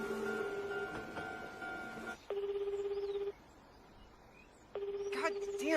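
A telephone rings in bursts of electronic trilling tones, pausing briefly between each ring, fairly quiet against a still room.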